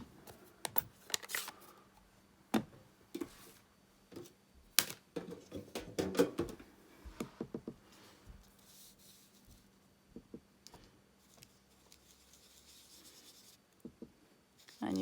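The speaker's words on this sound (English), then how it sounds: "I'm just going to sponge on my envelope" Soft dabbing and rubbing of a sponge applying ink to a paper envelope around a cutout heart, a run of irregular close taps and brushing strokes, some sharper clicks, with no talking.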